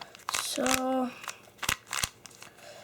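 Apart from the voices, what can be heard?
Rubik's cube being shuffled, plastic clicking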